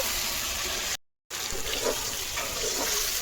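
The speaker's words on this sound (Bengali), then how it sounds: "এবার জলটা দিয়ে দিচ্ছি।" Water poured into a pan of fish curry, a steady close rush of splashing liquid broken by a short gap before it resumes.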